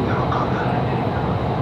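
A Doha Metro train running, a steady loud broadband rumble and rush of wheels and motor heard from inside the carriage throughout, with no clear talk.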